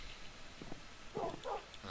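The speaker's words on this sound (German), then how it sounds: "Oh nein, die ganzen Hunde hier." Dogs in the video game Minecraft give a few short, soft whimpers and yips in quick succession, faint and close against a quiet background.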